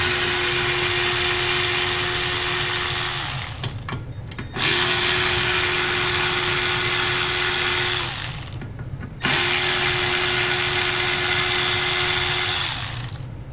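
Impact or power tool whirring loudly in three long bursts, each several seconds with brief pauses between, as bracket bolts are zapped off during rear coil spring replacement on a VW CC.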